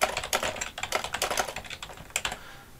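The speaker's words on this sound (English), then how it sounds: "So question one, I'm going to type in my question," Fingers type a question on a computer keyboard in a quick, uneven run of close, soft key clicks, with no talking.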